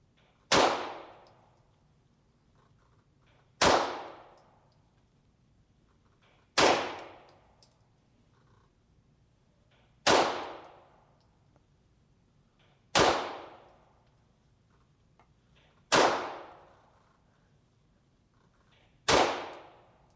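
Seven sharp, loud shots from a MAC9 DS Comp pistol firing remanufactured ammunition at a range. They come singly at a slow, even pace about three seconds apart, each ringing off into a short decay, with no talking.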